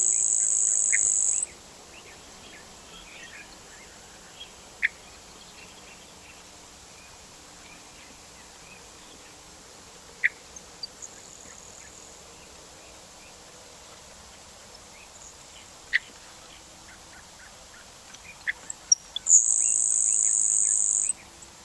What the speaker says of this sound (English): So this is the grasshopper sparrow.